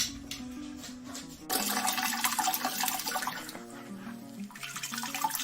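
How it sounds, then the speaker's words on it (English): Wort pouring and draining from a lifted grain bag during a homebrew American brown ale mash, a steady close splashing water rush that grows louder partway through and continues alone. "what we're doing here is straining the grain"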